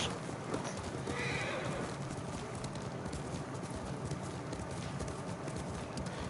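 A horse in the video game Ghost of Tsushima whinnies loudly and its hooves clip-clop in a steady rhythm, close and clear throughout with no voices.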